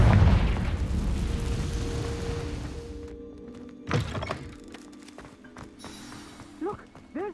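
A blasting spell in the Hogwarts Legacy video game erupts in a heavy, booming burst that rumbles loudly and fades over a few seconds, followed by lighter thuds and crackling debris and a couple of higher chirping effects.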